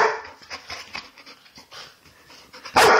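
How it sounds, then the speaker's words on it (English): A basset hound–bulldog mix pants and gives short whimpering yelps, ending in one loud sharp bark, close by with no talking. "Stop barking."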